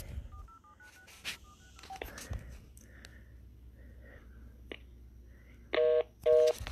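Telephone keypad tones punched in one after another to call a number back, a short run of distinct beeps early on and two louder, longer tones near the end, with faint rustling and a sniff between them.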